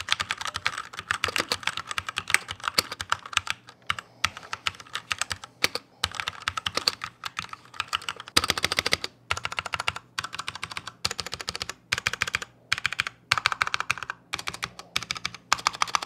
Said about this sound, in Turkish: ürünün tuş sesi gerçekten böyle çok bayağı bir tok